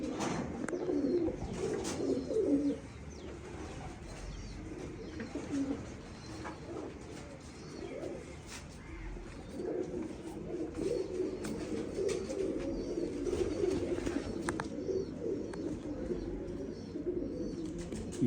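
Pigeons coo softly and continuously in a loft, their low rolling calls overlapping at moderate distance against faint background noise.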